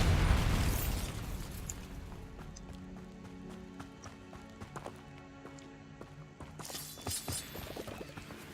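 A Bombarda spell explodes in the video game Hogwarts Legacy with a loud, booming blast that fades into scattered sharp pops and thuds over ambient game sound.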